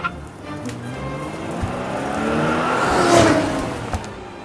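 A TMNT Leonardo Vrum ride-on toy by Wicked Cool Toys gives a soft electric whir that swells and fades as it rolls, with small knocks and bumps close by.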